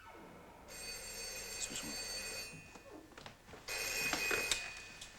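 A telephone bell rings in two bursts, a steady electronic trill near the listener, with a brief spoken apology between the rings.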